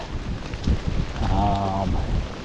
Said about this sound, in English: we've progressed from a steady drizzle to a steady rain now